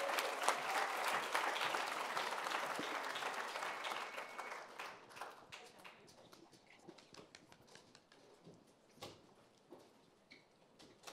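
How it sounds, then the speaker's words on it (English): An audience applauds a youth team coming onto the stage at a community event, with loud, dense clapping at first that gradually thins into scattered individual claps. "please give them another very big round of applause"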